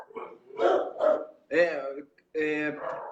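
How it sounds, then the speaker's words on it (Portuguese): Dogs bark nearby in several loud, separate bursts with short pauses between them. "Os cachorros latiram aqui um pouco aqui"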